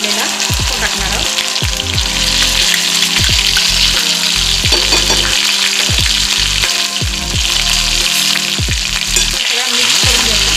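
Spices crackle and sizzle loudly in hot oil while saar is tempered with cumin, a busy, close frying hiss punctuated by quick pops and stirring scrapes.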